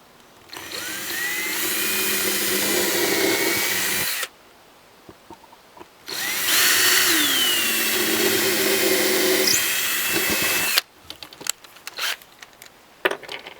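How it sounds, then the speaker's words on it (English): Power drill boring pilot holes through a wooden dowel while assembling a Walker Edison DW48D30 desk, in two long steady whirring bursts with a pause between, then a few short uneven bursts at the end. "I'm going to drill a pilot hole, a couple of pilot holes here."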